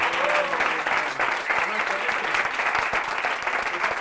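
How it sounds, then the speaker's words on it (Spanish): A theatre audience applauds after a school drama performance, steady dense clapping throughout with a few voices calling out underneath. "Un aplauso para ellos."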